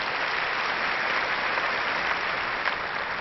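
Steady, dense applause from a studio audience at a televised interview, loud and uniform for a few seconds with no talking over it.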